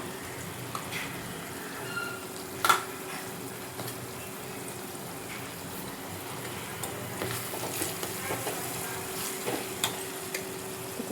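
Garlic sautés in a hot pan for poondu milagu kulambu, a soft, continuous sizzle with occasional clinks and stirring sounds, fairly quiet and without talking.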